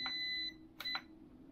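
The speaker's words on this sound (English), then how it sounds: "That long beep means you are perfectly centered." A long, high beep comes from an RC plane transmitter as its trim reaches center on an H650 Raptor setup. A shorter beep comes first, and faint clicks sound over a low background hum.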